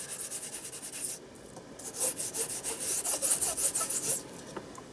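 Gilding flake is rubbed over a stencil in quick, light back-and-forth strokes, producing a soft, rhythmic scratchy rasp that pauses briefly before a faster run of strokes.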